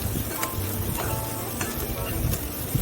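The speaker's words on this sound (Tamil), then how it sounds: "இதை இப்போ நான் நல்லா ஃப்ரை பண்ணிக்க போகிறேன்." Onions and masala frying in a pan for chicken macaroni, a steady, close hiss of sizzling with faint scraping from stirring throughout.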